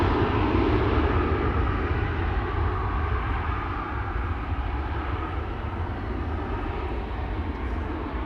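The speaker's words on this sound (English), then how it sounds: "This is KLM flight 1853 to Munich," KLM Embraer 190 jet bound for Munich at Amsterdam Schiphol, its engines putting out a continuous broadband roar with a deep rumble, steady and moderately loud throughout.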